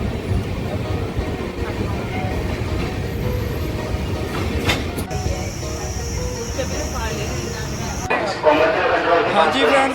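Steady, rumbling noise of a passenger train getting under way on a journey from Anandpur Sahib to Amritsar, heard from on board. A voice talks over the continuous rolling drone throughout.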